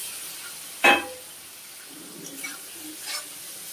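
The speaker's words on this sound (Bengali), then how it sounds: "মশলা থেকে অলরেডি তেল বেরিয়ে যাচ্ছে। এখন বেগুনগুলি দিয়ে দেবো।" Eggplant pieces go into a spice paste frying in oil for a hilsa fish curry, making one sharp, loud burst of sizzle followed by a faint, quieter frying hiss and light stirring.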